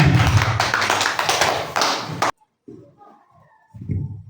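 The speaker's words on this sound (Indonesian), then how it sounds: "Tepuk tangan untuk kita semuanya." Classroom group clapping in unison under a teacher's prompt, a dense burst of many hands for about two seconds that cuts off abruptly, followed by quiet room sound and a few soft bumps.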